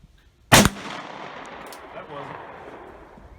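Single loud shot from a .44 Magnum single-action revolver, a sharp close crack followed by a long echoing decay, with faint voices afterward.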